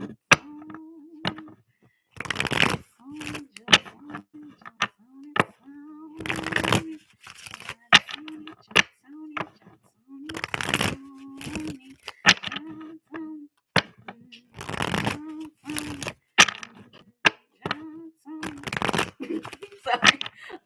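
Playing cards shuffled during a tarot reading, with repeated quick riffling bursts and snapping card sounds in an irregular rhythm, close and fairly loud, alongside a voice.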